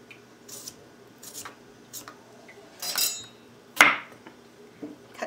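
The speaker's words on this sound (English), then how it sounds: "So you want to get your vegetable peeler" Vegetable peeler scraping skin off a cucumber in a kitchen, a few short, separate rasping strokes with light clinks between them, close and fairly quiet.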